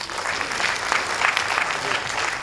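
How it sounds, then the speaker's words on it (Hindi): A theatre audience gives loud applause before a stage play, a steady wash of many hands clapping throughout at an even level. "एक बार जोरदार तालियां बजाइए।"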